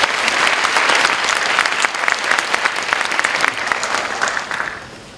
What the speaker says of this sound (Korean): 우리 박수 한번 부탁드리겠습니다.